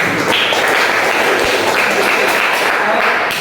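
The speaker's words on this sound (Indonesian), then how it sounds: "Tepuk tangan untuk kita semua." Schoolchildren in a classroom lesson applaud together, a loud continuous patter of clapping that fills the moment with little variation.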